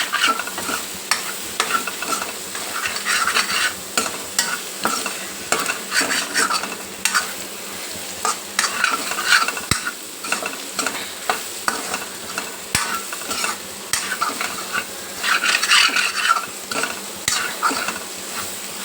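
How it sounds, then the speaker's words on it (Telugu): Egg stir-fried with tomato, green chili and onion sizzles steadily in a pan while a utensil scrapes and stirs in repeated strokes, close and fairly loud, with no talking. "ఇప్పుడు ఈ కూర, ఈ ఎగ్గు అంతా కలిపేసుకుందాం."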